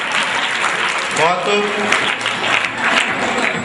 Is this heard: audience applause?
yes